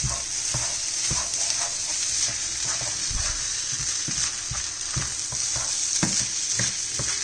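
Scrambled eggs are stirred through fried rice in a hot pan, producing a constant close sizzle broken by the scrape and tap of a utensil every second or so, with no one talking.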